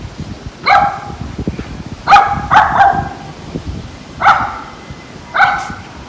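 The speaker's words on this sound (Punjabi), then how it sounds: "ਇਹ ਕਿਸੇ ਨੂੰ ਨੰਗਣ ਨਹੀਂ ਦਿੰਦੀ ਵੀ ਇਹ ਚੋਰੀ ਭੌਂਕਣ ਲੱਗ ਜਾਂਦੀ" A dog barks in short bursts, five or six sharp barks spaced irregularly, fairly close, with a low background rumble and no talking.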